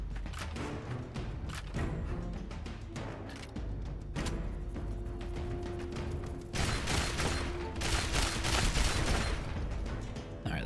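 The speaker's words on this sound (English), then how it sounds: "Switch to the shotgun." Shotgun blasts and other gunfire ring out in a Fallout: Tale of Two Wastelands game fight, a dense run of sharp repeated shots with a busier, louder burst toward the end, no voices.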